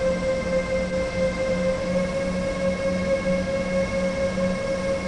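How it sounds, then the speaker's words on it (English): Steady mechanical hum of a moving BR187 locomotive hauling freight cars in Train Sim World 2, with sustained tonal whine and a constant low rumble, continuous and even throughout, no voices. "And this is how we can see this train moving actually."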